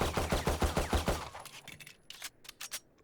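Rapid burst of gunfire from a weapon spam-fired without recoil control in Valorant, about a dozen sharp evenly spaced shots over a second, followed by scattered clicks and brief metallic rattles.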